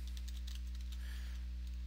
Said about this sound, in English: let me just type in something